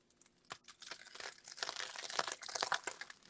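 Crust of fresh homemade bread being crunched and crumpled: a series of faint, crisp crackles and crinkling bursts that grow denser and louder toward the end, close up with no talk.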